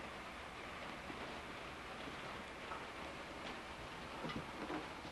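Steady rain hisses evenly through a rainy evening, a soft, continuous wash of drops with no voices over it.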